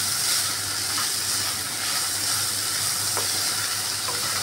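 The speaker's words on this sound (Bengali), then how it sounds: "এর জন্য আমিও একটু লবণ দিয়ে পেঁয়াজটাকে ফ্রাই করছি" Onions sizzling with salt in a pan, a steady close hiss of frying that runs evenly throughout with faint stirring clicks and no voices.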